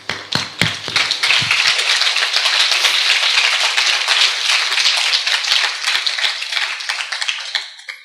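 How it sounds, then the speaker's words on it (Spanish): A church congregation breaks into sustained applause, a dense wash of many hands clapping steadily for about seven seconds after a few sharp opening claps, then tapering off at the end. "Yo le voy a dar un aplauso a Dios."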